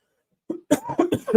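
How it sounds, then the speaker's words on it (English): Several short, rough coughs in quick succession, close to the listener. "I keep coughing."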